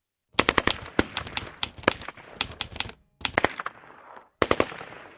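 A WWII Maxim machine gun fires in several rapid bursts of sharp, loud cracks, each burst with short gaps between, close and dry with no talking.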